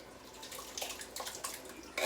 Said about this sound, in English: So Sam's going to pour in our can of diced tomatoes.